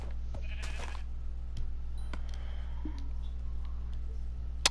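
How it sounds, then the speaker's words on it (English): Sheep bleating in Minecraft, a few short bleats scattered over a steady low background hum, plus occasional light clicks. "I found some sheep."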